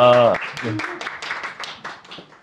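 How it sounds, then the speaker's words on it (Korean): Audience applause at a university lecture on democracy and civic education, a scattered burst of clapping that starts right after a short spoken line and fades away. "박수 한번 쳐주시면 감사하겠습니다"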